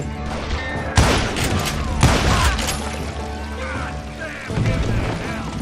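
Hired gunmen open fire in the Gunslinger video game: several loud, sharp gunshots land roughly a second apart with rumbling echoes, over a continuous musical background.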